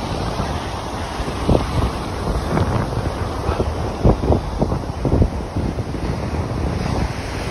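Stormy sea at Porthleven, with turbulent waves crashing and heavy wind buffeting the microphone, a continuous roar broken by repeated surges of surf.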